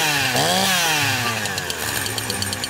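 A Stihl 353 chainsaw engine revs up loudly, pitch climbing sharply then settling into a harsh, steady buzzing whine, close and dominant.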